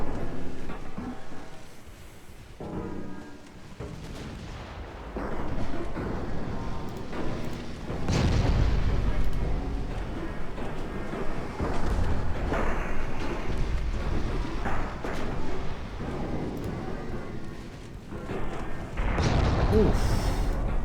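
Naval gunfire and shell hits in the video game Leviathan, an Imperial Austrian campaign, with heavy booms and thuds rolling loudly through most of the stretch over a dense battle din, strongest bursts around the middle and at the end.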